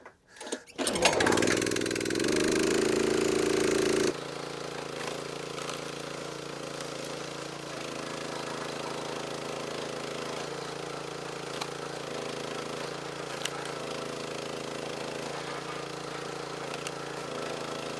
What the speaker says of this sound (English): Instead of using an axe, I'm just gonna use the log splitter to make kindling.